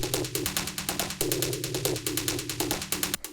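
Dark techno percussion run through a phaser, its rapid metallic ticking hits pulsing in a steady fast pattern with a slowly sweeping, shifting timbre, loud and dense with no voices.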